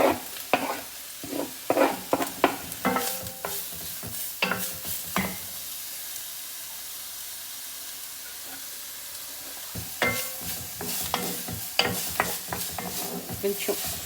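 Finely chopped onions and garlic sizzle in a hot pan with repeated sharp scraping and stirring clatters, broken by a quieter stretch of steady frying before the stirring picks up again.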